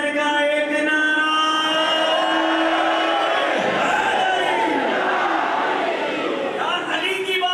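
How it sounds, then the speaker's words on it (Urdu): A large Muharram gathering roars back in unison, a dense loud wall of shouted slogans and cheering with sustained chanted tones that swell and surge throughout, voices overlapping continuously. "پانچ نعرے پنجے تن کا ایک نعرہ"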